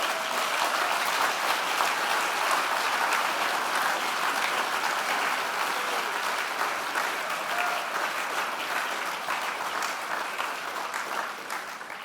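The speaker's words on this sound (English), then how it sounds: "So a warm applause to them." Steady, dense applause from a large crowd at an alumni and research awards ceremony fills the whole stretch, loud and even, tapering only slightly toward the end.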